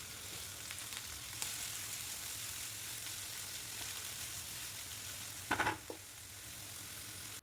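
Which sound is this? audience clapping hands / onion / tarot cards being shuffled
onion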